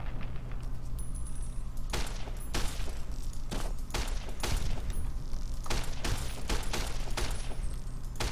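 Rapid gunfire from the video game Fallout New Vegas, a burst of sharp loud shots repeating irregularly over a steady background drone.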